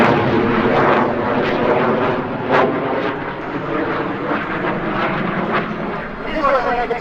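An Alenia Aermacchi M-346 Master jet trainer of the Italian Air Force performing an airshow maneuver, its loud broadband jet roar sustained throughout with a few sharp surges, while a commentator talks over it.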